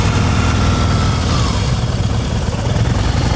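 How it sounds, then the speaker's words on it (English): A motorcycle engine loping at low speed during slow-speed riding practice, a steady close, loud low-pitched rumble with a pulsing throb and no talk. "And now the bike is going glug, glug, glug, glug."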